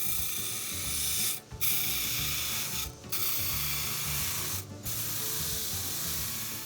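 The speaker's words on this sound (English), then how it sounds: "wire wheel out all of the extra wood glue" A wire wheel grinds old wood glue off a broken rake handle, producing a loud, close, harsh rasping whir that is briefly interrupted three times, at roughly even intervals.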